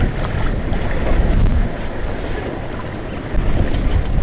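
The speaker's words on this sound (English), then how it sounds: "Winds are over 20. We got a reef jib deployed" Strong wind of over 20 knots roars steadily across a sailboat running on a river under a reefed jib, a loud continuous buffeting rush mixed with water wash along the hull, and no voices.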